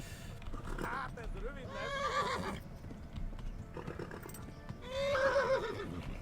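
A horse whinnies loudly twice amid Kingdom Come: Deliverance game sounds and hoofbeats, while a person talks over the action.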